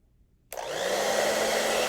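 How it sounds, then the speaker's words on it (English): A hair dryer heating Springfield Prodigy handgun grips switches on abruptly and runs with a steady, loud whooshing hum, close by, with no voices. "Now that you got the hairdryer on it,"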